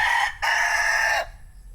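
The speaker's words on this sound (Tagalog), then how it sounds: "At ito naman mga manok natin" A rooster crows twice on a small farm: a short call, then a longer drawn-out crow. Both are loud and close, with no talk, and quiet follows.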